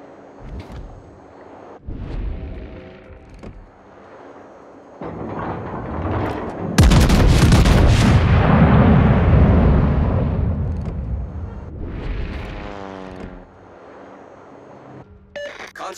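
Battleship guns in the naval warship game World of Warships, a huge booming salvo midway that rumbles and fades over several seconds, with lighter thuds and game voice lines before and after.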